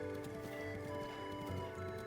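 Horse hooves clip-clop in a steady rapid gallop in the video game The Legend of Zelda: Breath of the Wild, over game music, with no talking.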